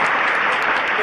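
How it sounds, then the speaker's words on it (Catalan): Dense, steady applause from an audience at a live Catalan acrostic contest show, loud and close, filling the whole short moment without letup. "Quique, un altre aplaudiment."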